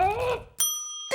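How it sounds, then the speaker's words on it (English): In a SpongeBob SquarePants cartoon, a small bell gives two sharp rings, the first with a lingering metallic ring-out, following a brief cartoon voice. "stop ringing this bell"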